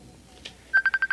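A cellphone rings with an incoming call, its ringtone a series of six loud, evenly spaced electronic beeps in a steady rhythm, preceded by a brief soft blip.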